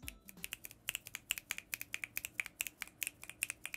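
Finger snapping imitates rain in a thunderstorm soundscape, with rapid, fairly regular crisp snaps close up, about six per second, continuing alone for several seconds.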